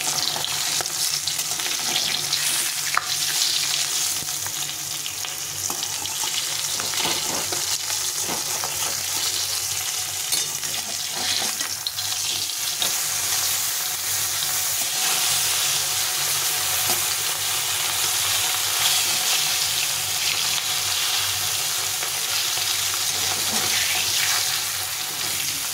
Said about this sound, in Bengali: এখন এটা উল্টে পাল্টে ভেজে নিতে হবে